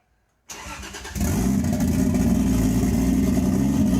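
A Toyota Supra in Test Drive Unlimited 2 cranks after a moment of silence and fires up, its engine catching and settling into a loud, steady idle rumble.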